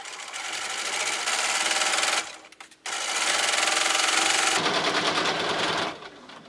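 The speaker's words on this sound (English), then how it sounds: "I am going to just use the zigzag stitch on my Bernina" A Bernina sewing machine stitching a zigzag, loud close rapid mechanical chatter in two long runs separated by a brief pause, with no talk.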